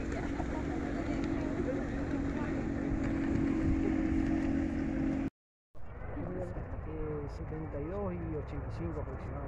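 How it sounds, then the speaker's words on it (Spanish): Motorboats coming back into harbor at Goya, Corrientes on a sunny morning after a night of fishing: a steady, loud engine drone with a brief dropout midway. People talk over it. "Más lanchas que regresan."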